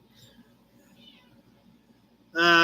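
A single loud meow, made by a person imitating a cat, bursts in at the very end, after a stretch of low murmuring background noise.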